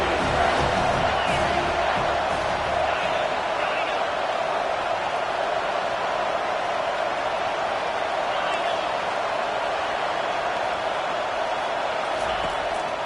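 A stadium crowd at a Miami vs FSU college football game roars on a big third down, a dense, steady wall of cheering and whooping that holds loud throughout with no break.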